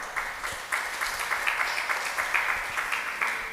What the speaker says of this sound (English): Let's applaud to Professor Muhammad.